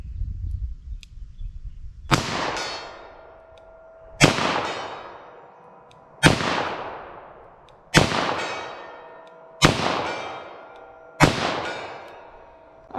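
Handgun fired from a 4-inch barrel, six loud sharp shots spaced about two seconds apart, each ringing out with a decaying echo, no talk.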